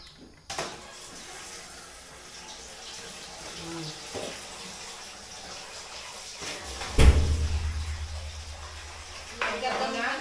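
Drinking water runs from a tap into containers at a rural provincial home, a thin steady trickle with knocks and clunks of handled vessels and a louder gush near the end, while people talk nearby.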